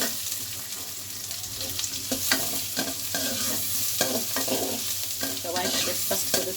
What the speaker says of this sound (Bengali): পেঁয়াজ দিচ্ছি, পেঁয়াজের সাথে একটু আদা কুচিয়ে দিয়েছি এখানে।